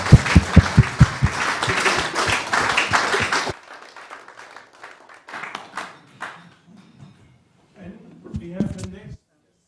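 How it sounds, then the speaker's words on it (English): An audience claps warmly after a climate change debate event, a dense burst of applause for about three seconds that thins into scattered claps, room murmur and a voice near the end. "Give them a warm applause."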